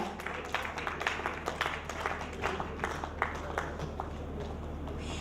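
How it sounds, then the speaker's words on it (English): Steady applause from an audience, many hands clapping in a dense, even patter that keeps going at moderate volume, with no voices standing out. "A round of applause for her."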